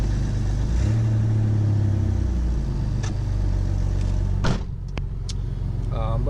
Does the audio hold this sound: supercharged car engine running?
yes